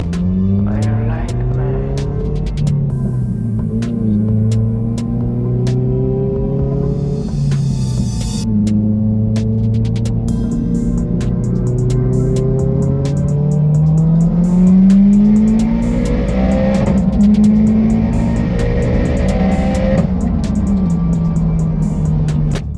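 A Scion FR-S accelerating hard on a highway while racing past a Subaru WRX, loud engine revs climbing through several gear shifts in a continuous roaring pull.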